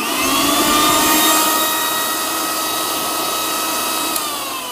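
A Prestige Endura 1000-watt, six-jar heavy-duty mixer grinder runs continuously at high speed with a loud, steady whine that eases slightly partway through and has no talk over it.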